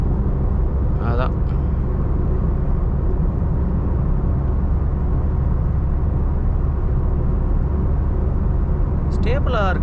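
A Nissan Magnite-class compact car cruising on the highway at around 100 km/h, steady broadband road and engine rumble throughout, with brief speech near the start and end.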